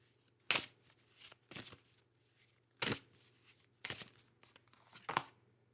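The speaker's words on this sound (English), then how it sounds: "So we're just going to shuffle again." Playing cards are riffle-shuffled five times, each shuffle a brief crisp ripple separated by quiet pauses, heard up close.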